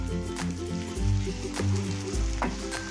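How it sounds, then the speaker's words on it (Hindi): Half a kilo of chicken fries with onion and garlic in a hot pan, giving a loud, steady sizzle with occasional stirring scrapes and bursts of spattering throughout, with no voices. "अब हम इसको चिकन को अच्छी तरह फ्राई कर लेंगे प्याज और लहसुन में।"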